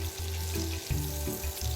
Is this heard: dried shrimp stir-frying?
yes